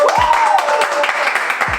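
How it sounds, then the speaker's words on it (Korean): A studio audience breaks into brief applause to welcome a guest onto a Korean talk-style reaction show, a short burst of clapping with a voice speaking over it. "박수로 모시겠습니다"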